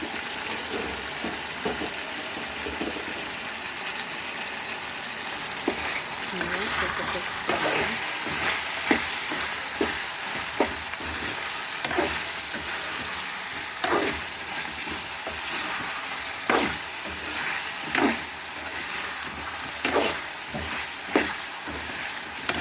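Chicken pieces frying in a pan with a spoonful of ginger paste for pepper chicken masala, a loud continuous sizzle with repeated scraping stirs and occasional spatula knocks, close up.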